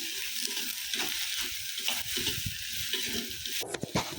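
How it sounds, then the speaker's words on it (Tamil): Onion and garlic saute in butter in a pan, giving a steady close sizzle broken by soft stirring scrapes, with a brief sharper clatter near the end. "வெங்காயம், பூண்டு ரெண்டையும் சேர்த்து கொஞ்சமாக வதக்கிட்டதுக்கப்புறம்"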